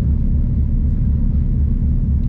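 Thunder sound effect from an air-powered theatre organ, a steady deep low rumble that rolls on continuously and loud, with no voices over it.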